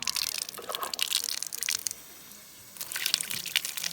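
Water gushes from an old tap into a cement backyard sink in loud, splashy bursts, pauses briefly, then starts running again close by.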